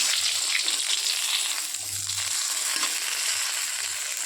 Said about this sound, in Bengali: লম্বা লম্বা করে আমি সুন্দর করে সব বেগুনগুলো ভেজে নিচ্ছি